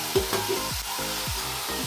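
Taro greens stirred in a frying pan for a coconut taro-greens dish, giving a run of short repeated scraping strokes over a low steady sizzle, close and fairly quiet.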